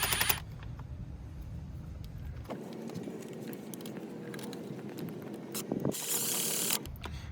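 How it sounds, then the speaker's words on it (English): A tool tightens Torx T30 bolts into a Mercedes GLA 250 rear brake caliper to attach the e-brake motor, producing brief ratcheting and mechanical whirring at close range with short sharp bursts. "now we're tightening up the T30 bolts back into the caliper to attach the e-brake motor"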